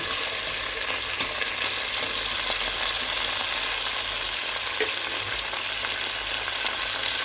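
Mixed vegetables for khichdi, onions among them, fry and get stirred in a pan with a dense, loud, continuous sizzle and faint scraping throughout.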